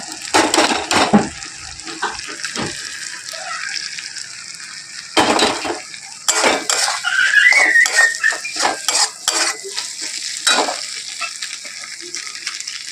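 Crumbled scrambled egg tipped into a tarka in a pan and stirred: utensil scrapes and clinks against the pan in irregular bursts over a light sizzle, close and fairly loud.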